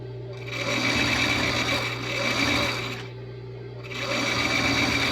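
A sewing machine topstitching a dress neckline from the wrong side, running steadily at a loud, close, even hum with a brief slowdown midway before picking back up.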